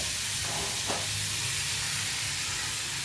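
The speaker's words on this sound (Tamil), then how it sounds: "அது கூடவே கொஞ்சமாக உளுத்தம்பருப்பு போட்டுக்கிறேன். இது ரெண்டும் தாளிச்சிட்டு அவ்வளோதான்." Urad dal tempering in hot oil in a home kitchen, a continuous bright sizzle and hiss with a brief sharper crackle, steady and close, no talking.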